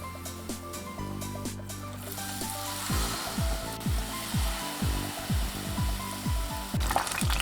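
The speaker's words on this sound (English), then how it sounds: "Let's deep fry the vegetables. Pumpkin only takes about 3 minutes." Pumpkin pieces deep frying in hot oil for tempura, a steady close sizzle with bursts of bubbling crackle that thicken after the first few seconds, no talking.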